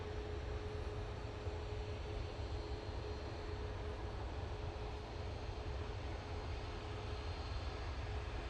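An orange airliner arriving from the Isle of Man is heard as a faint, continuous distant engine drone under low wind noise, steady and unchanging, with nobody speaking.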